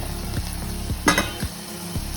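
Turmeric being stirred into a frying mixture for an Andhra-style fish fry, with steady sizzling and a few brief scrapes of the stirring spoon against the pan, close and fairly quiet.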